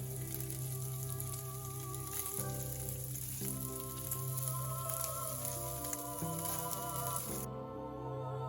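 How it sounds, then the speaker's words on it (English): Onion sizzles in a pan with pork fat, a steady, soft, close crackle running throughout with no talking, while a faint tonal sound hums along underneath. "I'm just sauteing these in a pan"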